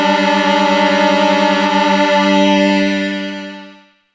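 Korg minilogue XD synthesizer in duophonic voice mode plays a bright, buzzy sustained tone rich in harmonics with a subtle pulsing texture. The sound holds steady, then fades smoothly away over the final second, alone and up close.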